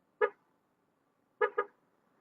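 A short motorcycle horn beep from a Yamaha Fazzio scooter, a pause, then two quick beeps in a row, loud and close against an otherwise silent background.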